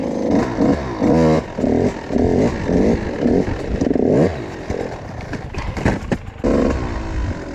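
A KTM 85 SX dirt bike engine revs hard in repeated bursts close by, rising and falling with gritty roaring pulses and brief pauses between throttle blips.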